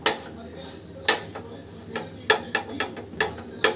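Cut pav bread is pressed and turned in a pan of street-style pav bhaji with kasuri methi. A spatula gives several sharp clacks against the pan over a soft, steady sizzle, close and without voices.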